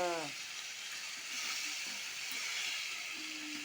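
Sargunde, a rice noodle breakfast, hiss and sizzle steadily while being sautéed in a hot pan, a continuous bright frying wash running the whole time, with a brief tonal clink at the start.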